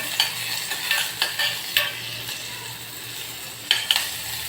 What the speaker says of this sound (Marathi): मी हा कांदा एक चिरून घेतलेला आहे तो टाकणार आहे आणि मस्त असं थोडासा फ्राय करून घेणार आहे